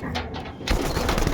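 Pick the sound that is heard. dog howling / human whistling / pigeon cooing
pigeon cooing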